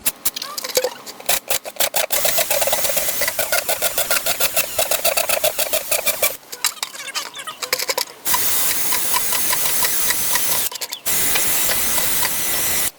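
A drill with a thin bit, about 3/32 inch, bores holes in a black soldier fly bin, whining loudly in repeated bursts of several seconds separated by short pauses.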